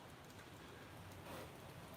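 Rain falls in a faint, steady wash of soft hiss, with no voices and nothing else standing out over the drizzle.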